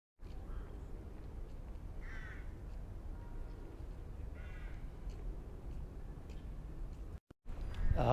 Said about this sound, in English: No wonder the birds like to chill here.